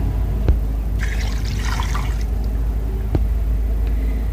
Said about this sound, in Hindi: और अब हम इसमें 2 गिलास पानी डाल देंगे।